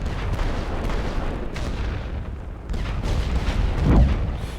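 Artillery area barrage in a World War I video game, a dense continuous rumble of booming shell fire with heavier thuds building toward the end, loud and alone without talk.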